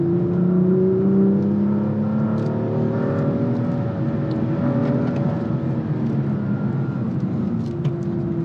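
A BMW M2 with a manual gearbox accelerating, heard from inside as a steady engine drone that rises slowly in pitch for the whole stretch, with no talking over it.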